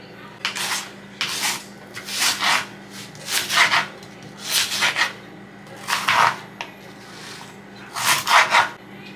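A knife slices through an unpeeled onion on a cutting board in a home kitchen, giving about seven separate rasping, scraping cuts at an uneven rhythm. The cuts are close and clear over a low background hum.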